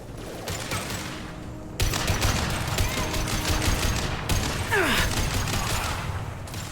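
Rapid automatic gunfire in Mass Effect Legendary Edition, with sustained dense bursts that start abruptly, pause briefly, then resume, loud and close, with a whooshing sweep partway through.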